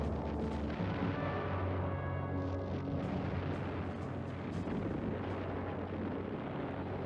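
Naval bombardment and artillery fire from warships shelling a coast before dawn, with distant enemy guns: a dense, continuous roar of overlapping booms and rumbling blasts, loud and sustained throughout.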